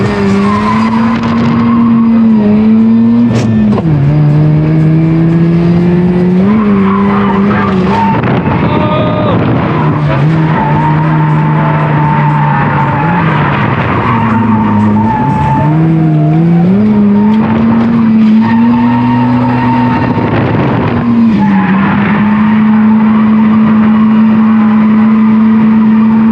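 Mazda RX-7 FC coupe drifting, loud tire squeal sweeping and wavering over a revving rotary engine throughout, with brief engine bursts and squeals continuing close up and sustained.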